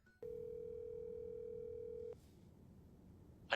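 A telephone dial tone, a steady continuous pure tone that starts abruptly, holds for about two seconds and cuts off, leaving quiet room noise and a brief rustle at the end.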